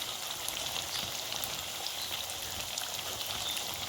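Cauliflower frying in hot oil in a pan, a dense, steady crackling sizzle heard close up and without pause, with no voices over it.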